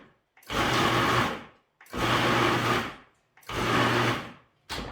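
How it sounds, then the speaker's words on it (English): A food processor pulsing mock tuna ingredients for an even chop, three loud whirring bursts of about a second each separated by brief silences, then a fourth burst beginning at the end. "So I'm gonna pulse instead of turning it on so I get a nice even chop"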